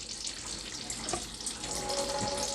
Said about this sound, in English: So now we're just gonna flush that machine